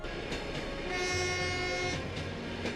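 A train in Mongolia rumbles along with rhythmic clacking while a long horn sounds in the middle, steady and moderately distant.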